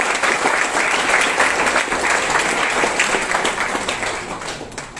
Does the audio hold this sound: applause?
yes